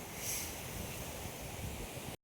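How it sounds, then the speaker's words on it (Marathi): Red floodwater rushing over a bridge in heavy Konkan monsoon rain, heard as a loud, dense, continuous roar with wind buffeting, ending abruptly in silence. "एवढा खतरनाक पाणी वाहत आहे ना वारो तर वारो आहे खतरनाक आणि पूर्ण लाले लाल पाणी आहे"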